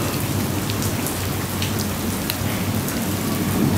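Steady rain pours down in rainy weather, a dense continuous hiss of drops striking surfaces, loud and close throughout with no voices.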